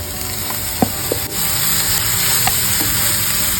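Beetroot and onions stir-fry in a pan with a steady sizzle, broken by a few sharp scrapes and clicks of a spatula mixing, close and alone without talk.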